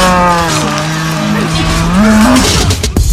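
Cow mooing in For Honor video game, a single long, loud, close low moo that rises in pitch near its end, with no talking.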